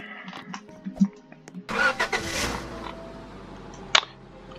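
A car engine in the Roblox game Lumber Tycoon 2 drones steadily at a high pitch, starting abruptly after quieter clicks and tones, with a sharp click near the end.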